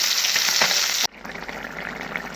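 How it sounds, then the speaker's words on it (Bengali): Fish sizzles loudly in a hot frying pan for about a second, then the hiss suddenly drops to a softer, crackling fry that continues to the end. "চলো, মাছটাও ভাজা হয়ে গিয়েছে আমার"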